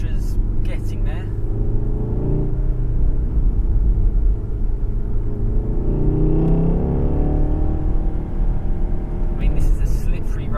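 Manual VW Golf R driven hard on Michelin Pilot Sport 4 tyres along a slippery, bumpy road with traction control off, heard from inside: a loud continuous engine drone rising and falling with revs, under road rumble.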